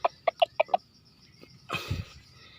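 Male wild junglefowl decoy calling with a quick run of five sharp, evenly spaced clucks close by, followed by a louder, rougher burst of crowing or scuffling; no talk.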